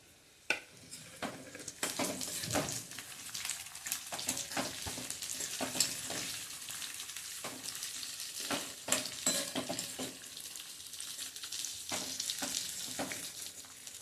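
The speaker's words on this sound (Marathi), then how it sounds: "आता ह्यामध्ये मी घालणार आहे एक कांदा उभा चिरून घेतलाय" Sliced onion frying in a pan with urad dal and chana dal over a medium flame for hotel-style white chutney: continuous sizzling broken by repeated scraping and clinking of a spoon stirring against the pan.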